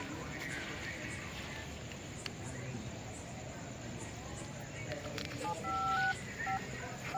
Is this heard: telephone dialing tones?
yes